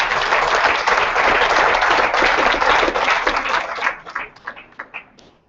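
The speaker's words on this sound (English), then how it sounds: "if everyone could give them a round of applause" An audience at a leadership panel discussion gives a dense burst of close applause that holds steady, then breaks into a few scattered final claps and dies away.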